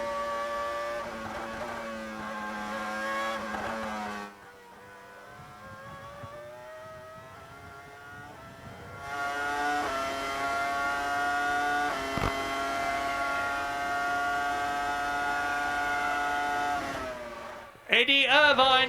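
Formula 1 race cars from the 2001 season lapping Silverstone in the F1 2001 video game, their high-pitched engines whining and shifting in loud, sustained harmonic tones, with a burst of noise at the very end.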